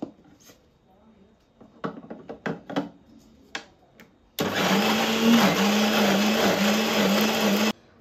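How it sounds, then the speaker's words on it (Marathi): A kitchen mixer grinder grinding soaked grain to a fine paste for sandan. A few light clinks and knocks come first, then the motor starts abruptly and whirs loudly and steadily for about three seconds before stopping. "आता ह्याच्या पुढची प्रोसिजर आता आपण मिक्सरला घर बारीक करून घेऊया।"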